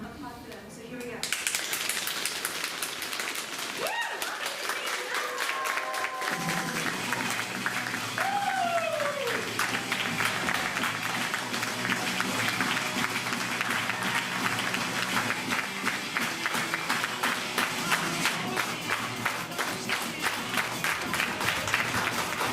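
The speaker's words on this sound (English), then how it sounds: "we'll just do a big drum roll and applause for them" After a quiet start with a voice, a live music venue crowd breaks into sustained, fairly loud applause and cheering for the band, with whoops rising above steady clapping that continues for nearly twenty seconds.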